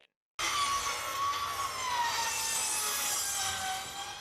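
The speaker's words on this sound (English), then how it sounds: "The sounds of busy saws and hammers fill the air in the border city as work crews take advantage of the warm weather." Saws at a construction site in a border city rasp in a continuous, fairly loud stroke after a brief silent start, with a rough, wooden grinding texture and no distinct hammer blows.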